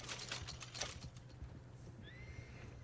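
A horse in Red Dead Redemption 2 whinnies and snorts amid a few hoof clops, followed by a short rising electronic tone, fairly quiet overall.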